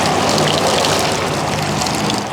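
Water spraying over a Harley-Davidson Dyna Wide Glide motorcycle during a wash, a loud, close, steady hiss of spray and splatter.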